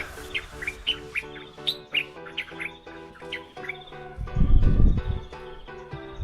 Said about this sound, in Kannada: ಈ ಬರ್ಡ್ ಸೌಂಡ್ ಕೇಳಿಸ್ತಿದ್ಯಾ?